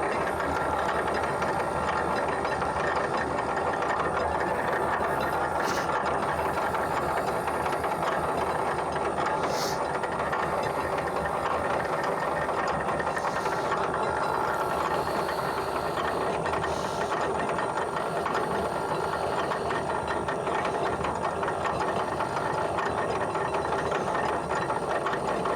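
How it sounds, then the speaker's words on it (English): An Atlas 10-inch lathe runs a thread-cutting scratch pass on a banjo bolt, giving a continuous gear and drive rattle with a fine ratcheting texture that holds steady throughout at a moderate level, with no voices. "We'll run a scratch pass just to verify that we are where we want to be, got the right thread pitch set up"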